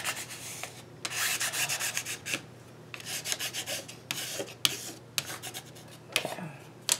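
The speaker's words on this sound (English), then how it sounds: "I'm going to take another popsicle stick and burnish these down really well" Popsicle sticks being burnished down firmly with another popsicle stick, a steady close rasping rub in repeated strokes over several seconds, with no talking.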